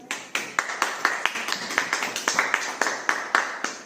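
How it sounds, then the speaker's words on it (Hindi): A church congregation claps in a quick, steady rhythm, producing a regular train of crisp hand claps heard at moderate distance. "ताली हो जाएगी।"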